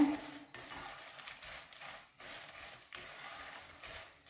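Spices for a spicy powder mix being dry-roasted and stirred in a pan, with a utensil scraping in repeated bursts broken by short pauses, close and fairly quiet.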